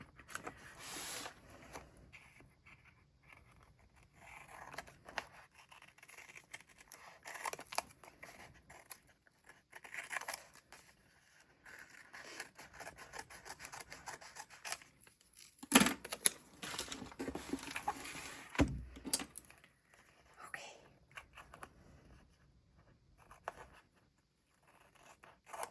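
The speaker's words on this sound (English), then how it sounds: "this will be easier to trim since it doesn't have so many pages all attached" Paper scissors snip bullet journal pages, with faint, sparse cuts and rustling heard close by over a quiet room, and a couple of louder crisp snips near the middle.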